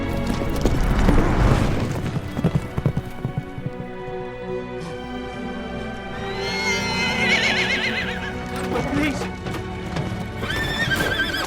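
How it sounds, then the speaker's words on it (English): A racehorse gallops with pounding hoofbeats and loud neighing during a match race on a dirt track, with crowd noise and dramatic sound swelling around it. "there's still a horse running."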